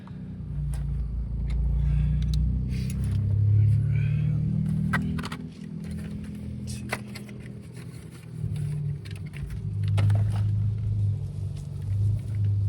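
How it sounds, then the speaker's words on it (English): A Lexus IS250 sedan drives slowly and gently nearby, its engine giving a low steady rumble that swells and eases, with faint clicks and a little talk in the background. "It's weird seeing your car moving without you in it and driving it."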